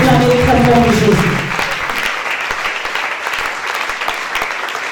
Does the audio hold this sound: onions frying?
no